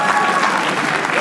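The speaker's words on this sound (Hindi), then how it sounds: "विवेक संतानी के लिए तालियां प्लीज" Applause rises from a comedy roast audience, a steady dense patter of many hands at moderate volume over a short stretch, with a voice briefly mixed in.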